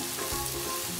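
Onions frying with salt in a pan for baingan bharta, a dense, even hiss of sizzling oil held close and steady through a very short stretch.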